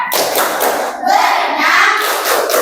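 Children in a classroom clap their hands in a rhythmic call-and-response clapping chant, with dense, close claps and thumps mixed with young voices chanting along.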